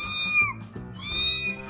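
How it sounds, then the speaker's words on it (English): A cat meows twice in quick succession: a clear, close, high mew and then a slightly longer one, with nothing else around it. "4. Cat."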